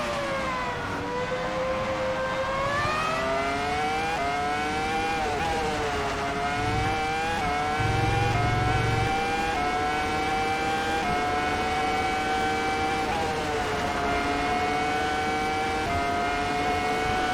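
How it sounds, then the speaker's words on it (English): Race car in the rFactor 2 simulator driving through a sector of track, its loud engine note rising and falling in pitch with gear shifts and throttle, continuous and close for the whole stretch. "The experience of driving the car through Sector 2 is arguably the most unique in rFactor 2"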